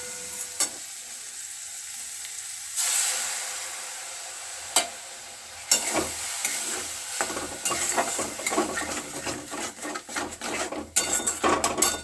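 Ground cumin, coriander, Kashmiri chili and garam masala paste stirred into a sizzling cauliflower curry in a pan, loud frying hiss with repeated scraping and clinking of a utensil against the pan, growing busier toward the end.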